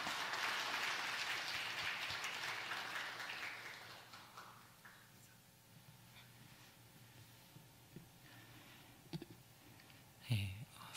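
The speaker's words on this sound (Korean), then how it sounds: "우리 나오실 때 우리 뜨거운 박수로 한번 격려해 주시겠습니다." A church congregation at a Sunday service applauds in a dense, quiet wash of clapping that fades out over about four seconds, leaving a hushed room with a few faint knocks.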